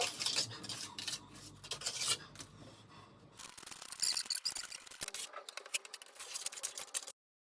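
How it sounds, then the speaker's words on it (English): A small trowel pushes a sticky plaster mix up from a hawk onto a damp cottage kitchen wall, making close, rasping scrapes and smears in uneven strokes, with brief pauses between passes. "So I'm using a little trowel like that and a hawk, and sort of the technique is put it up and put it in."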